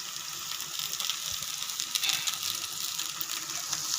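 Crushed ginger and garlic frying in a pan of shallots for Kerala chicken perattu, giving a steady, close sizzle with light bubbling and faint scraping, no voices.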